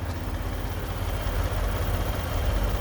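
A 2019 Ford Expedition Max Platinum with the EcoBoost engine idles steadily, a low, smooth, even hum heard close and alone with no voices.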